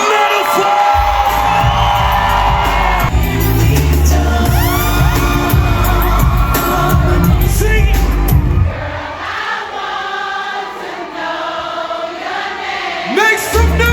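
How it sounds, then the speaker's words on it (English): A live crowd in Kansas City cheers, whoops and shouts loudly for a performer being introduced, a dense roar that thins toward the end. "Kansas City, y'all make some noise for my brother, your boy, Ace"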